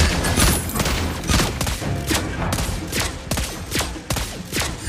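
Sharp gunshots from the sniper hero Lesley in the mobile battle arena game Mobile Legends, a loud run of rapid shots over busy game sounds.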